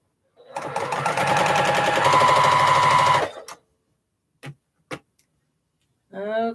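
A sewing machine stitches through quilt layers for a leaf block, a loud, fast, close rhythmic whir lasting about three seconds, followed by a few clicks and a short bit of speech.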